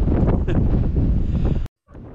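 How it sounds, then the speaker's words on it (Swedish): Wind gusts across the Stockholm archipelago, buffeting the microphone with loud, rumbling blasts that cut off abruptly near the end and return faintly. "Det blåser."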